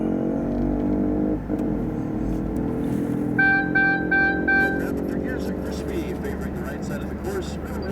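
A motorcycle runs on the El Mirage dry lakebed land speed course, a steady engine drone with tonal harmonics that shift as it passes, heard at a distance beneath a public-address voice and open outdoor noise.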